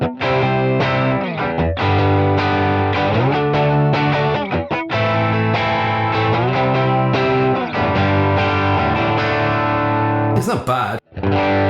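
Electric guitar played through a Lovepedal Reverb Deluxe pedal with the reverb switched off, recorded direct into a computer; strummed distorted chords ring loudly for several seconds before cutting off abruptly.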